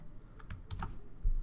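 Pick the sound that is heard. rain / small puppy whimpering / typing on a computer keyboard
typing on a computer keyboard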